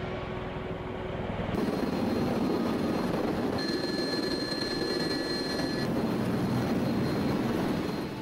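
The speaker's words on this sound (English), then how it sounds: "It's time for the Ospreys to bring in the infantry." A Bell Boeing V-22 Osprey tiltrotor aircraft flies on a military troop-carrying mission, making a loud, continuous, droning engine and rotor roar that holds steady throughout.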